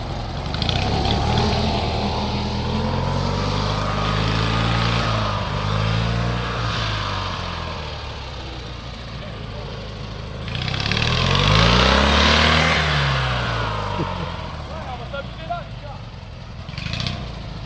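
Small engine of an MTD racing lawn tractor runs steadily, its pitch rising and falling as it slows under engine braking, with a louder surge near the end; people talk over it throughout.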